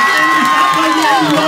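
A village crowd at a vallenato piqueria in El Hatico, La Guajira, cheers and shouts loudly with whoops and some applause, close and dense, with voices mixed into the roar.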